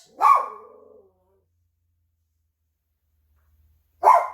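Two sharp dog barks, the first a loud bark with a short trailing growl, then silence before a second bark near the end, close and clear with no talk.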